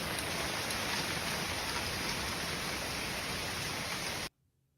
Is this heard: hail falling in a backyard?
yes